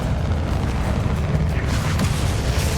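Bombarda spell blast in the video game Hogwarts Legacy: a steady, loud booming rumble of explosions with a few sharper bursts near the end, no voices over it.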